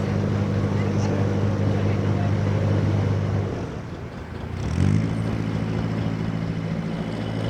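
A steady low narrowboat engine drone on a canal, with harmonic hum, dips briefly, then rumbles back up at a slightly different pitch, as if throttling. No voices.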